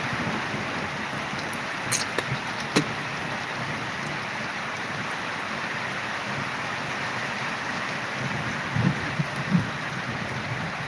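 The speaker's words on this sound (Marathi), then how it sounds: "आज गरजून पाऊस आहे मित्रांनो हो" Heavy rain pours steadily in a village setting, a dense continuous hiss with a few faint distant thunder cracks and knocks.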